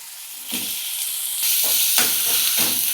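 Chopped onion and green capsicum sizzle and hiss in hot oil, growing louder partway through, with occasional soft stirring scrapes up close.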